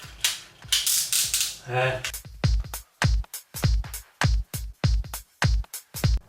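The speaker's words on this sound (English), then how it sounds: "I'm going to transform this guy into his white prime mode. Go! I love that ratcheting." Plastic joints of a Transformers figure ratchet through a rapid series of sharp clicks as it is transformed into its white Prime mode, close and crisp, with a brief rattling buzz among the clicks.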